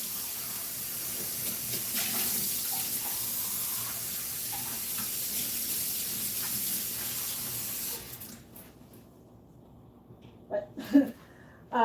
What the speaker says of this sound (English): So I just rinsed out the cup and used that leftover dye in here as well.